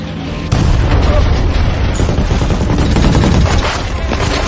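Mortar explosions and gunfire from an enemy attack on a patrol in the war film The Ambush, a loud continuous barrage of booms and bursts of shots starting abruptly and rolling on without pause.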